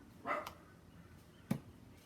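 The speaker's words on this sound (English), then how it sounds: "And if you happen to hear doggies barking in the background, that is Lady and Coco, our co-hosts" Two short, distant dog barks, spaced about a second apart, against a quiet background.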